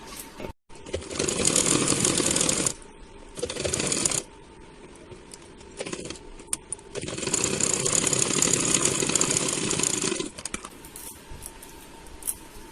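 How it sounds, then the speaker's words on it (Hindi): Sewing machine stitching along the edge of a blouse lining, with two long loud bursts of steady whirring separated by short pauses and quieter handling. "इस तरीके से अब इसको हम यहाँ पर भी अस्तर के किनारे किनारे हम सिलाई करेंगे"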